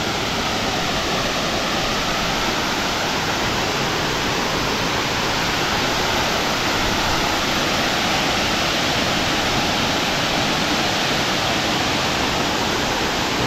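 The Sangbay Ni Ragsak waterfall in Ilocos Sur gives a loud, constant rushing roar of falling water, steady and close for the whole stretch with no voices.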